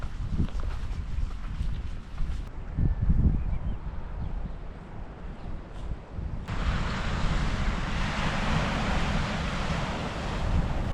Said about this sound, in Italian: c'è ancora vento, c'è vento da diversi giorni e non si sta affatto bene.